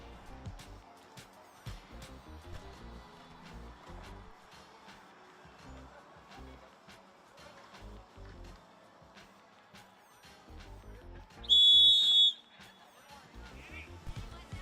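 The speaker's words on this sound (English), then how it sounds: "And the whistle sounds." At a track cycling race in the Pacific Northwest regional championships, a single sharp whistle blast rings out clearly over quiet background clatter and low ambient noise.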